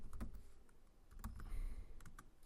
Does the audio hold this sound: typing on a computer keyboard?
yes